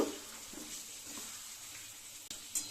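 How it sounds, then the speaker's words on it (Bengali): Fried potatoes being sautéed in spiced gravy in a pan for a vegetarian dish, a soft continuous sizzle with faint stirring scrapes and a brief clink near the end, no talk. "আলুটার সাথে গ্রেভিটাকে ভালোভাবে এইভাবে একটু কয়েক মিনিট ধরে একটু কষিয়ে নেব"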